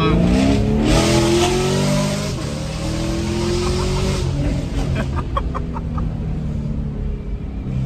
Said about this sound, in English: We're gonna warm the tires a little bit